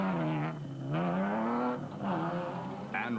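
A Ford Ranger racing pickup truck engine revs and drones nearby, its pitch climbing and dropping through several throttle surges and gear changes.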